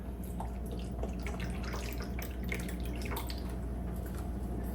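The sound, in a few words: filling the Dreo Chef Maker air fryer water tank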